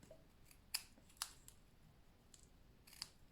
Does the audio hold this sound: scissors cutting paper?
yes